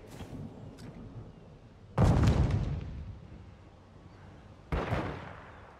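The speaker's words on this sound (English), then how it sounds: "Throwing grenade!" Grenade explosions in a Call of Duty match, two sharp heavy booms a few seconds apart, each decaying into a rumbling tail over quieter background gunfire.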